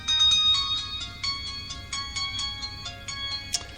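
A mobile phone ringtone chimes in a repeating pattern of bright electronic tones during a live radio broadcast, fairly loud and close, with no talking over it.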